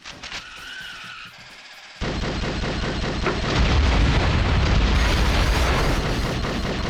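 Fire and napalm weapons explode in the Twisted Metal vehicular combat game, a sustained roaring, crackling barrage of blasts that swells loud and dense after a brief quieter lead-in, with no talk over it.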